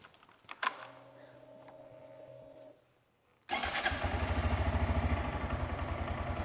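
A Honda Grom motorcycle (2021–22 model) fitted with an aftermarket exhaust sits quiet for a few seconds, then fires up into a close, loud, steadily pulsing idle.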